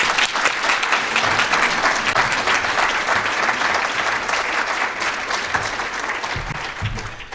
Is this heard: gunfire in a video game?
no